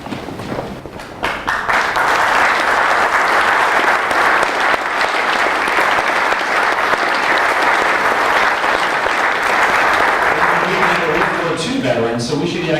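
Audience at a service recognition awards ceremony bursts into loud, sustained applause for family members standing, dense clapping after a brief quieter start, with a voice emerging as it fades at the end.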